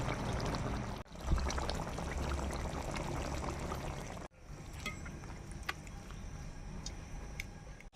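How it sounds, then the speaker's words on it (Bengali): Tomato sauce poured into a simmering katla fish curry, a soft wet rush over the bubbling pot with a few faint clicks, broken by two abrupt cuts. "একটু টমেটো সস দিয়ে দিচ্ছি"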